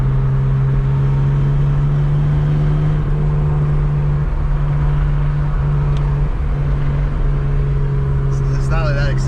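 A BMW E30 engine, suspected of being blown and knocking around 3,500 rpm, drones loudly and steadily inside the car while driving, with a faint change in pitch. People speak over the engine.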